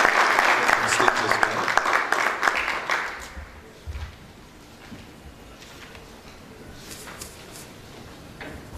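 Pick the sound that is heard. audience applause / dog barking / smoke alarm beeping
audience applause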